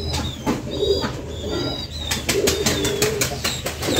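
Sirazi pigeons coo in repeated low rolling calls close by, with soft fluttering and faint chirps between them and no voices.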